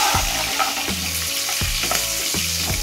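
Curry leaves and chopped chillies sizzle steadily in oil in a hot pan, a close continuous fry with several scraping stirs of a spoon at regular intervals and no talk.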